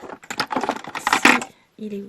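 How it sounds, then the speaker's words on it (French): Close clattering and knocking of small objects being shuffled around in a drawer, a brief pause, then a short voice. "je viens de me rendre compte que je trifouille dans mon tiroir juste derrière vous"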